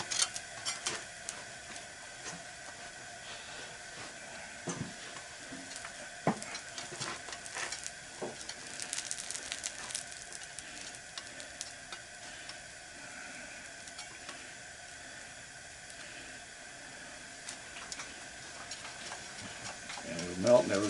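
Scrap batteries melting down for lead, with faint sizzling and occasional scraping and stirring taps in the pot as crud is pushed aside, quiet and steady throughout.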